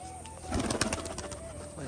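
A male pigeon with well-feathered legs coos in a bird loft, a soft rolling coo repeating in a cluster near the middle, fairly close against a steady background hum.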